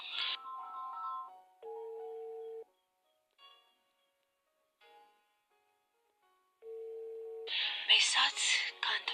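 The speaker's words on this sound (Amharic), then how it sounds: "ስልክሽ እየጠራ ነው" A telephone ringing in two repeated buzzy ring bursts separated by silence, with short tones and clicks before and a voice speaking near the end.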